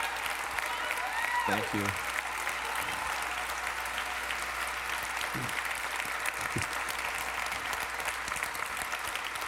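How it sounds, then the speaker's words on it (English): A lecture audience gives a sustained round of applause after a talk introduction, dense clapping filling the room throughout while someone speaks briefly over it. "Wow, what a round of applause"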